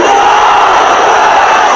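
A large crowd at a religious rally chants a Khatm-e-Nabuwwat slogan in unison, a loud, sustained roar of many voices filling the whole span.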